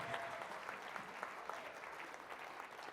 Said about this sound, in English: Let's give you guys a round of applause real quick